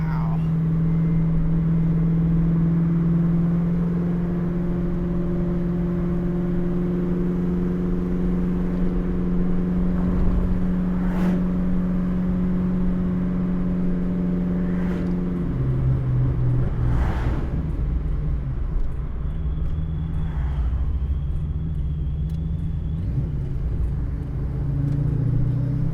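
A supercharged Foxbody Saleen Mustang drives along with a steady, droning engine hum and road rumble, the pitch shifting midway as it changes speed, with voices talking over it inside the car.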